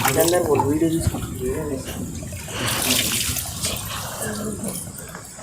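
Water streams off rocks at the Uma Maheshwaram temple in Telangana, a close, continuous splashing flow. A person talks over it for much of the time.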